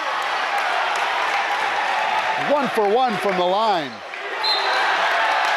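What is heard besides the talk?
basketball crowd cheering after a three-pointer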